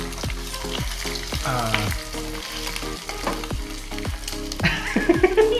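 Omelette with boiled egg frying in plenty of oil and being flipped, a loud continuous sizzle punctuated by repeated sharp scrapes and clanks of a spatula against the pan.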